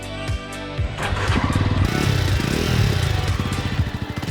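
A Jawa Classic motorcycle's 293 cc single-cylinder engine catches and runs close by, settling into a throbbing idle with a few rhythmic revs.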